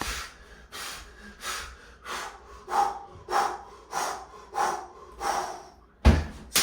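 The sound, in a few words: heavy breathing during exercise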